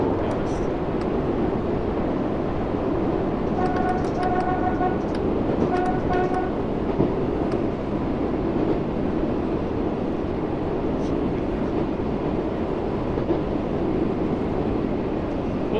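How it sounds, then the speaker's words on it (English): A steady, dense rumble fills a train interior in Train Sim World 3, with a brief tonal chime or horn-like toot partway through and a faint voice under the continuous noise. "What they've done, they've recorded this from inside the train"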